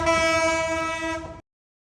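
A passenger train in Bangladesh blows a sustained, loud horn with a rich stack of harmonic tones, held steadily for over a second before cutting off abruptly into silence.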